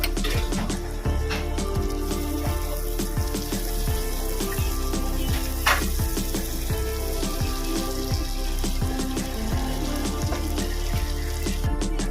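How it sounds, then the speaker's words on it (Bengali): Chilli powder masala frying in oil in a pan, making a dense crackling sizzle with rapid spitting pops and regular scraping strokes of a spatula, close and fairly loud throughout. "লঙ্কার গুঁড়ো মশলাটা ভালো করে কষিয়ে নেব"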